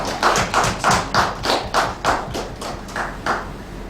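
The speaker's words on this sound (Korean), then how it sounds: "우리에게 은혜 주신 하나님께 영광의 박수 올려드리겠습니다" A church congregation at a Christmas Sunday service claps together in a steady, even rhythm, about three beats per second, a crisp close ensemble of hands with no voices over it.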